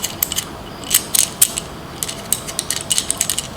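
Small metal mounting screws being turned into a DJI Ronin SC gimbal plate, giving quick bursts of crisp ratcheting clicks close to the microphone with short pauses between turns and no speech.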